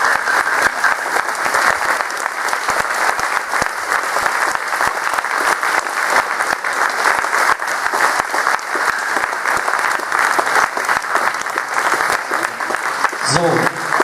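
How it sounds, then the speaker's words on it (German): A large indoor crowd at a domino toppling event applauds steadily and loudly for the full length, a dense, even wash of clapping. "nochmal um einen riesigen Applaus bitten."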